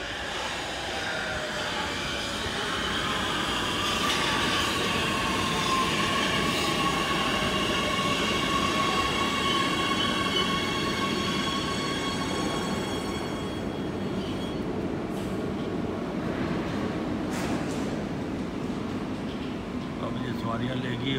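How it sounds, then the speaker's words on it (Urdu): A metro train pulls into a station in Oslo, its rumble and rising whine loud and close, with faint wheel squeal and someone talking over the sound. "یہ ٹرین آ گئی ہے،"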